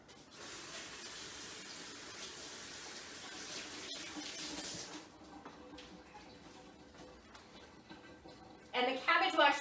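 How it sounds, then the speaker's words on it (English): Hands rinsed under a running kitchen tap while preparing cabbage, a steady hiss of water for about five seconds, then a quieter stretch and a louder splash at the end. "Okay, let me rinse off my hands."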